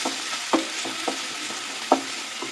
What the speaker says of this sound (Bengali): তো এর মধ্যে আমি এবার দিয়ে দেব পেঁয়াজ কুচি। এটা একটু গোল্ডেন ব্রাউন করে নেব।